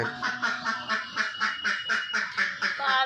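A flock of ducks on a duck farm quacks loudly and continuously in a rapid, overlapping rhythm close by, with no speech over the calls.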